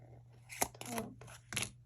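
A few quick snips of scissors trimming the edges of a paper craft cross, close and quiet over a low hum, in short separate cuts.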